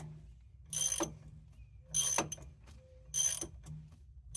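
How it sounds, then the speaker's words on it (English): A 5.4L two-valve engine in a 1997 Ford Econoline E-150 van is turned over by hand with a half-inch drive ratchet, giving three close bursts of rapid ratchet clicking separated by short pauses, with no talking. "I can crank on it by hand with just a 1/2 drive"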